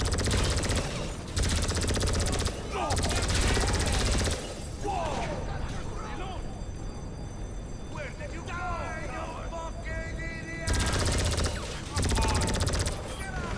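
Loud bursts of automatic GTA 5 gunfire during a heist shootout, recurring in several heavy volleys separated by quieter stretches where people talk.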